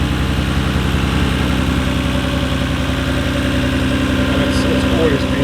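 A Nissan Skyline R32 GT-R fitted with an aftermarket filter idles steadily nearby, a dense, even low-pitched rumble with constant vibration that holds level throughout, while a person talks faintly over it.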